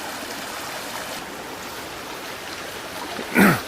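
Water runs steadily over gravel in a creek bed choked with washed-down soil and debris, a constant close rushing babble with a short sharper splash at the end.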